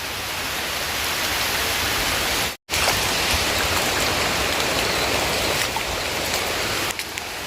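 Heavy, steady downpour of rain roars on and on, with one brief dropout partway through and no voices.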